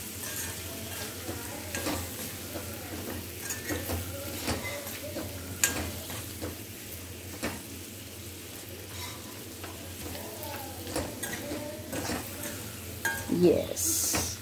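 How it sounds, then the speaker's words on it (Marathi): Cheesy garlic potatoes sautéed in a pan, a steady crackling sizzle with repeated scraping stirs of a spatula across the surface, close and continuous with faint room noise. "पण आपण अगदी अजून 1 मिनिट याला छानपैकी परतून घेऊयात."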